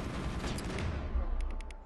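Pistol gunfire in the video game Mass Effect during close combat: dense, loud shots run throughout, ending with a quick burst of four sharp cracks.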